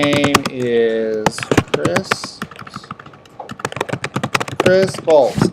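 Keys on a computer keyboard clatter in quick bursts of typing, mixed with a person talking throughout.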